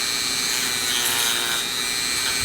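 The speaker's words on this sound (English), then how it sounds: "this is where you bring your dremel in, and you're basically just going to start kind of filing this area out" Dremel rotary tool grinding and filing out a wooden handguard for an 1896 Krag rifle, a loud, continuous high whine with rough abrasive rasping, close up and alone.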